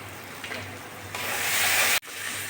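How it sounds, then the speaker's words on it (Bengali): Taro leaves fry in oil while being stirred in a pan, giving a hissing sizzle with scraping stirs. The sizzle swells loudly partway through, then cuts off sharply before resuming. "পাতাটাকে তেলের ভিতর নাড়াচাড়া করে ভাজি ভাজি করে নেব"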